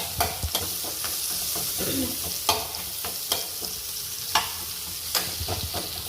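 Raw onions frying in oil in a home kitchen pan for a Bengali rohu fish curry with vegetables, a steady close sizzle broken by sharp scraping stir strokes at irregular intervals.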